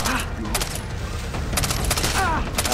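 Rapid bursts of automatic gunfire in the video game Far Cry 3, loud and dense, with a voice talking over the shooting.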